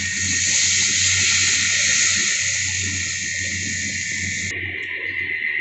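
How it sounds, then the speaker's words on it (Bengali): Water is poured into a pan of fried spice mixture for prawn curry, a steady rushing pour lasting about four and a half seconds before it cuts off abruptly, leaving a low background hum. "এখানে মশলা কষানো হয়ে গেছে, জলটা অ্যাড করে দিচ্ছি"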